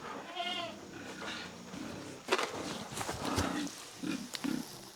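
Pigs grunt and squeal near a farm feed store as 1,000 pounds of feed is stacked, with bleat-like calls, low snorts and shuffling footsteps in a busy farmyard din.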